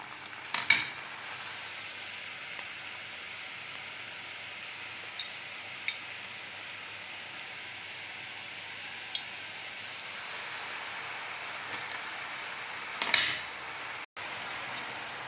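Urad dal murukku fries in hot oil in a kadai, a faint, even bubbling sizzle running throughout, punctuated by a few light metallic clinks of a ladle and a louder clatter near the end.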